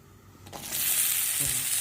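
Okra hits a pan with a little hot oil and bursts into a steady, close sizzle that holds after a quiet moment, with a faint stir knock.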